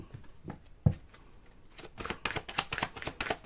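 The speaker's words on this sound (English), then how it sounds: "So a quick shuffle." A deck of tarot cards is given a quick shuffle close by, starting as soft scattered taps and building into a denser run of rapid riffling flicks.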